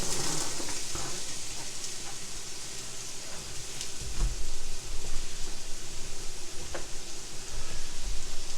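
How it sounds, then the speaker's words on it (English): Onions sizzle and caramelize in a pot of beef and vegetable soup, with a steady frying hiss throughout and occasional stirring scrapes that grow slightly louder midway. "Now we're going to add in our onions. We're going to caramelize them."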